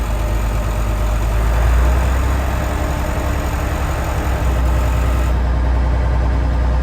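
An old diesel bus engine idles steadily with a deep, continuous rumble and rattling throb, loud and close throughout.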